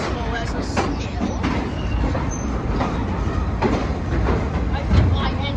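A New York MTA subway train runs at speed, a loud, steady rumble with rapid rail clatter and faint wheel squeal.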